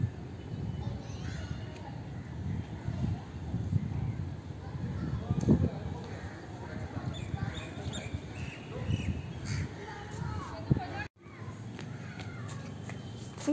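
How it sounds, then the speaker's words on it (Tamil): Crows caw repeatedly along a residential street, the calls mixed with ongoing street noise and a person talking nearby throughout. "இங்கே பாரு சாரா, இந்த பக்கம் பாரு, எவ்வளோ பேர்ட்ஸ் பாரு"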